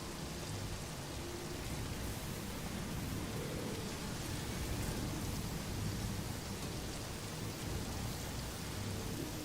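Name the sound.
rainstorm in the video game Satisfactory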